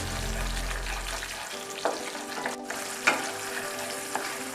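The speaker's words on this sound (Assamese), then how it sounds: "জিৰা গুড়ি দিয়াৰ পিছত 2 মিনিট সময় আমি ধুনীয়াকৈ লৰাই ভাজিলোঁ" Vegetarian paneer curry stir-frying in a pan after cumin powder goes in, a steady sizzle with a low rumble early on, then scattered scrapes and stirring clatters.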